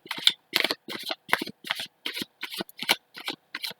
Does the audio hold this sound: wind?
no